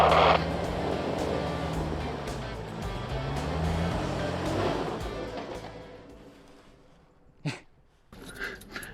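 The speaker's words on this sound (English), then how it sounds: "I'm just going to try and keep my wheels in the tracks that are there and just go slow" A vehicle creeps slowly along an off-road track in the Victorian High Country, its engine rumbling steadily before fading, followed by a couple of brief sharp knocks near the end.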